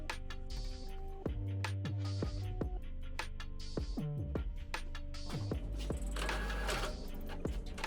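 An Epson L3110 inkjet printer runs a test copy after a keyboard repair, a steady mechanical stream of rapid clicks, whirring carriage movement and rhythmic thumps, close and continuous with no talking.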